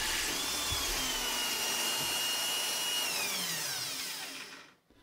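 A drill press bores a hole dead centre through a wooden end cap, a steady whining motor and cutting hum running for several seconds before spinning down and stopping near the end, with no talking.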